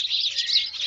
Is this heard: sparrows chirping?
yes